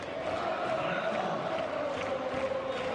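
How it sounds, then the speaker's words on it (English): A college basketball crowd in an arena roars in a steady sustained cheer, dense and moderately loud throughout, with no clear voice standing out. "And listen to this crowd."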